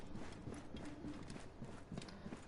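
Horse hooves clip-clop in a steady walking rhythm across the desert in Assassin's Creed Origins, moderately loud and close, with faint game ambience behind.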